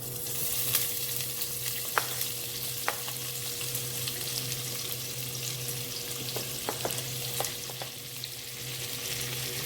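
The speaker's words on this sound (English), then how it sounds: "I'm gonna put the onion in first." Onion frying in a pan for fried dumplings and callaloo gives a steady, even sizzle with scattered small crackles and pops, up close and continuous throughout.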